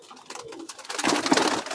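Soft cooing from a female pigeon close by, a few low throaty coos rising in the second half amid light rustling.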